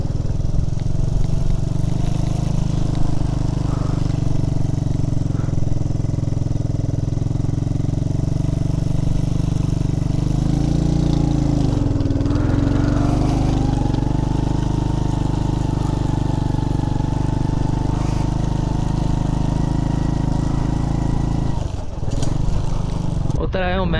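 A Honda CD 70 motorcycle engine runs steadily and loud up close in Deosai National Park near Skardu, its drone holding for the whole stretch with a slight rise in pitch midway and a brief dip near the end.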